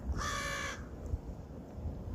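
Crows caw in a quick run of harsh, repeated calls for under a second, then fall silent over a low rumble of snowy outdoor ambience during a blizzard.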